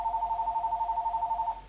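A telephone ringing with a warbling electronic tone, a steady pulsing trill sustained for over a second before cutting off, heard at moderate level in a quiet room.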